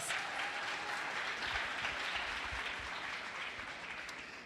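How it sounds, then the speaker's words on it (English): Audience applause after remarks by the Vice President of the United States, a sustained wash of many hands clapping that fades slightly toward the end. "Please give the Vice President of the United States of America another round of applause."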